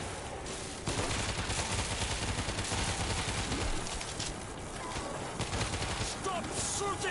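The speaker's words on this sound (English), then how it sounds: "Stop shooting!" Gunfire in the World War Z video game crackles in dense, rapid bursts like a fusillade. It runs almost without a break and stays loud, with a voice briefly mixed in.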